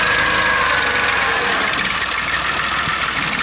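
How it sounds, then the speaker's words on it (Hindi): A tractor engine running at a steady, loud, close idle with a continuous rough mechanical drone and slight knocking vibration throughout, no pauses and no voices. "ट्रैक्टर से वर्कआउट हो रहा है।"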